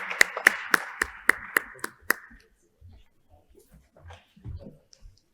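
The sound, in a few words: audience applause for conference panelists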